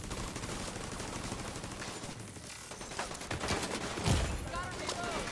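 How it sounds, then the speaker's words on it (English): A minigun fires in a video game, a dense continuous mechanical stream of rapid shots with whirring mechanism noise, loud and sustained across the clip. "We need that minigun!"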